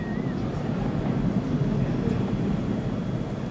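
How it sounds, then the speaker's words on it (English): SpaceX Falcon rocket Merlin engines on the first stage roar during a crewed launch, a steady, heavy low rumble that stays loud and unbroken, heard from a distance without speech. "We heard we're throttling down the Merlin engines on the first stage."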